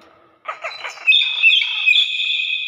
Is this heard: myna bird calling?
yes